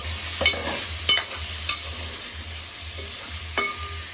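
Chicken pieces sizzle steadily in a hot pan, with a few sharp spatula scrapes as they are stirred; no talking.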